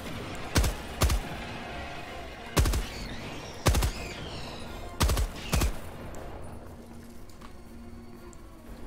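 Short bursts of automatic gunfire from the video game Helldivers 2 ring out in a loose rhythm, about five or six loud volleys with quiet gaps between them.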